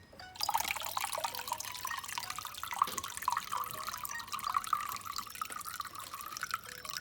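Juice pours from a blender jug into a glass, a steady close trickling and splashing of liquid that runs continuously at moderate volume.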